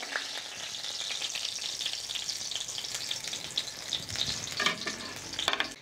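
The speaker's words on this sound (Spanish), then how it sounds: "Mientras están dorando los chiles" Dried chiles browning in hot oil in a pan, a steady broadband sizzle with soft stirring scrapes and a few brighter crackles near the end, close and continuous with no voices.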